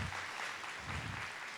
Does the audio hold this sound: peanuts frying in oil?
no